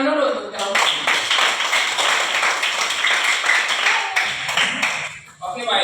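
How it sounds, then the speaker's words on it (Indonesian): Classroom applause for a student answering, many hands clapping in a dense, steady patter for about five seconds, fairly loud and close, with some voices mixed in before it fades at the end. "Tepuk tangan dulu untuk kamu."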